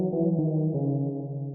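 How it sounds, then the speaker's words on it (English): Sawtooth synth pad in Serum built from two saw waves, run through a 24 dB per octave low-pass filter set around 277 Hz, giving a dark, muffled sustained chord that shifts twice and slowly fades, with no voices. "It's filtered down at a 24 decibel per octave filter, and it's at about 277 hertz."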